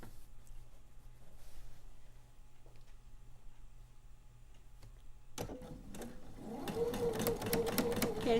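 A sewing machine stitches quilt pieces after a quiet stretch, starting with sharp clicks and then running in a close, rapid mechanical chatter that grows steadier toward the end.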